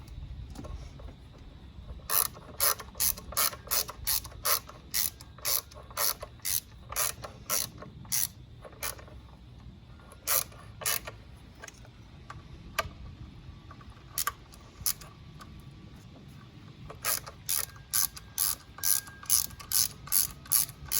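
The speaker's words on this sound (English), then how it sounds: "you can tell I'm using a ratchet that's small so I don't put too much torque on it" A small ratchet tightening valve cover bolts on a Toyota Camry, bursts of rapid clicking pawl strokes separated by pauses, close and crisp over a low background hum.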